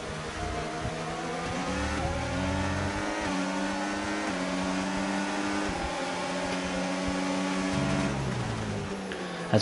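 On-board F1 car engine of Magnussen in a racing game, a high, steady whine that climbs through gears and drops on downshifts in repeated shifts, loud and continuous throughout.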